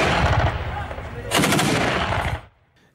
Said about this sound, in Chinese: 枪炮声划过巴格达西边的旷野地带